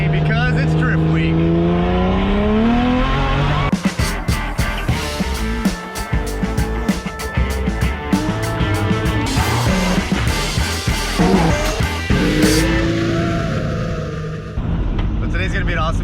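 A Nissan S14 drives on the way to a drift event, its engine revving and shifting through rising tones while a person talks over it from inside the car.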